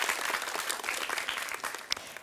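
Warm, steady applause from a television quiz show audience, many hands clapping together for a short stretch, with one sharper clap standing out near the end.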